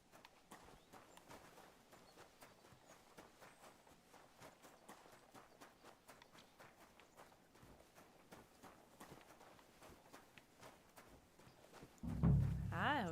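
A horse walks in the medieval open world of Kingdom Come: Deliverance 2, its hooves clip-clopping softly and steadily over a long stretch, with a louder burst of sound near the end.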